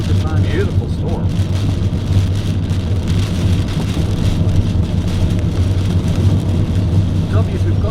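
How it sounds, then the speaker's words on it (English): Heavy rain and hail pound steadily on a car during a massive Texas hailstorm, a loud, dense, continuous drumming with a low rumble beneath and no pauses. "That's a beautiful storm."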